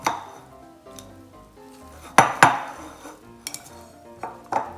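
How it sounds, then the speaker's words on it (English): Chinese cold noodles being tossed and mixed in a bowl, with irregular clacks and scrapes of utensils against the dish and a couple of louder knocks, close and fairly quiet, no talking. "I'm just gonna mix this up in the bowl"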